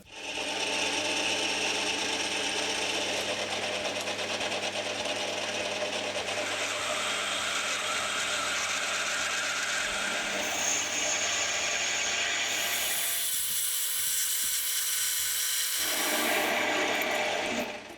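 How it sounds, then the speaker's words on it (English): A manual lathe drills a 12mm hole through a brass washer with a steady, close mechanical whir and grinding rasp that runs unbroken for the whole stretch. The pitch shifts slightly toward the end. "Just like the first washer, this is getting drilled to 12mm and parted to length."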